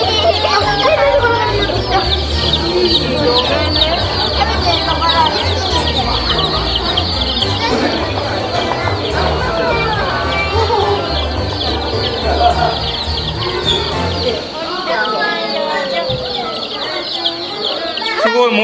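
Chicks peep in a dense, continuous chorus of high chirps close by at an indoor animal petting park, with voices of people talking faintly underneath.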